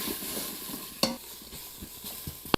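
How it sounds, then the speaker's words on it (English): A spoon stirring turmeric, black pepper and tomato paste in a pan, soft scraping and low sizzle with a couple of sharp clinks against the pan, quiet and close with no talk. "We're gonna stir all of that up together."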